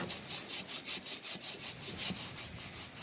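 A soft brush scrubs the fins of a vehicle AC condenser in even back-and-forth strokes, a steady rhythmic scratchy swish repeating about four times a second, close and alone.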